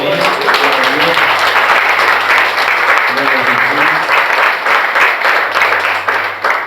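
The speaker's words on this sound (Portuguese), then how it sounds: "Você pode dar um forte aplauso ao Senhor" Dense, steady applause from a church congregation at a couples' worship service fills the whole stretch, with a sustained keyboard tone underneath and a voice briefly speaking over the clapping.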